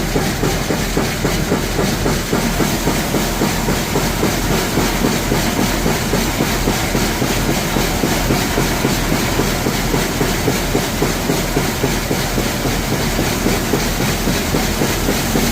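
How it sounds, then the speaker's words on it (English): A grain auger runs steadily while loading corn into a wagon on a farm, giving a loud, continuous mechanical rattle and rumble with a fast, even clatter throughout. "we'll have the auger running, putting corn into the wagon"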